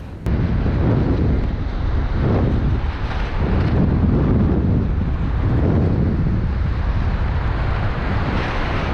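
Strong wind on a beach buffets the microphone in a continuous roaring rush, rising and falling slightly throughout, with no voices.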